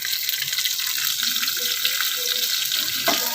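Curry leaves, grated ginger and chopped green chilli fry together in hot oil, giving a dense continuous sizzle with faint stirring and a brief knock near the end, with no talking.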